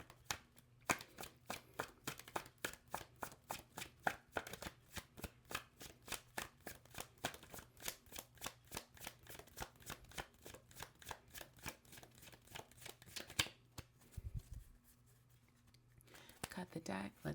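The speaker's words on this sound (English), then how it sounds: "It looks like a smooth shuffle" A deck of tarot cards is shuffled over and over, giving a long run of crisp, evenly spaced riffling bursts, close and fairly quiet, that pause briefly before a final flurry.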